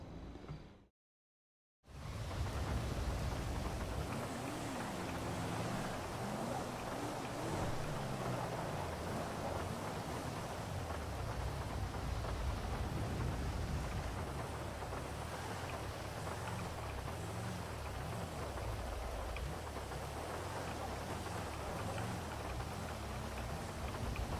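Rain falls steadily in the video game GTA 5, a continuous, fairly faint hiss of drops after a short silent gap at the start, with a low engine-like rumble underneath.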